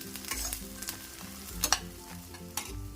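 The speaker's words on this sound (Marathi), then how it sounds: "आता आपला कांदा फ्राय होतोय" Onion and green peas frying in a pan, a steady sizzle with occasional stirring clatter and a couple of sharper scrapes, close and continuous with no talk.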